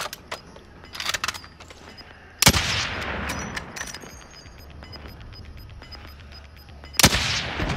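Gunfire in the video game Call of Duty Warzone: two loud, sharp shots at the start and near the end, with scattered smaller pops and faint background game sounds in between.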